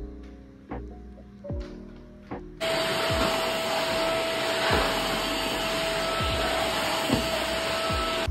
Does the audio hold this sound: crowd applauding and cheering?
no